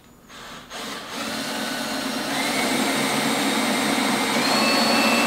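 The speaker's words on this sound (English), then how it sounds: "These screws will probably screw right through it." A power driver runs continuously as it drives screws into the edge of a workbench, a steady near whirring hum that rises slightly in pitch and loudness and holds for several seconds with no talking.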